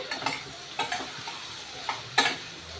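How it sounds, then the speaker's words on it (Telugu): Chopped spiny gourd stirred in a frying pan, a spoon scraping and knocking in several separate strokes over a light sizzle, close by with no talk. "అంగారకాయ తరిగిపెట్టి ఉంచుకున్నాం కదా ఇందులో వేసేసుకోవాలి ఇలాగా ఇవి శుభ్రంగా కలుపుకోవాలి"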